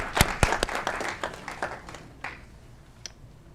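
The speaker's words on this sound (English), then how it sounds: "Big round of applause." A small crowd applauds at a city committee meeting, with sharp claps at first that thin out and fade away within a few seconds.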